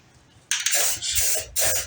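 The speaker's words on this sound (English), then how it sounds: "Just gonna spray that stuff on." Aerosol coating sprayed onto solar outdoor lights: a quiet lead-in, then two sustained hissing bursts, the second after a brief pause, close and fairly loud.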